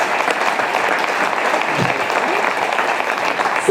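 A theatre audience applauds after a staged performance of a play, a loud, dense, sustained wash of clapping from many hands that stays steady and full throughout with no pause.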